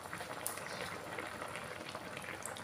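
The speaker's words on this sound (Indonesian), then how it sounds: "kita punya tu sudah mendidih" Broth for asam pedas with patin fish boils in a pot, a soft, steady bubbling hiss with faint pops, close and fairly quiet, heard alone.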